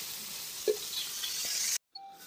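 Eggplant (brinjal) slices frying in hot oil give a steady sizzle throughout, with a faint clink partway through. The sizzle stops abruptly near the end, and a quieter background returns after a brief silence.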